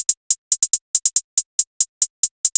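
Crisp hi-hat pattern from an FL Studio trap beat, bright ticking hits in a bouncy, uneven rhythm with quick rolls, played alone and fairly quiet.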